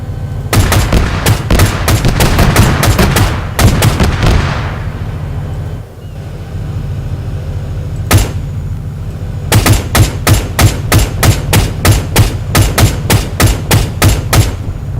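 Vehicle-mounted guns firing in Arma 3, loud rapid bursts of shots in fast regular volleys, a pause with one lone report, then another long steady burst, no talk.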